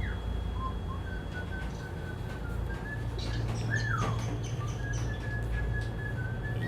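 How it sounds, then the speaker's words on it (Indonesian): Two birds on a boat at sea, sailing from Semarang toward Muara Pagatan, give thin, scattered chirps and whistles over a constant low rumble of engine and wind. "ditemani sama dua burung nih."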